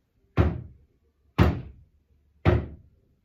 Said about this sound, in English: she heard three knocks on her wooden door